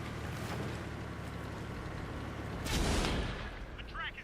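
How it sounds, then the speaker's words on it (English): A tank game artillery shell lands with one heavy, rumbling boom near the three-second mark, rising over a constant low engine drone and fading into a brief tail. "and the artillery missed again as well"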